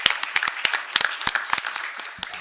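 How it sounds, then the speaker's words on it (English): A small crowd at a local planning commission meeting claps, a brisk patter of individual hand claps, fairly close and steady, with no talking over it. "let's give everybody a round of applause one more time"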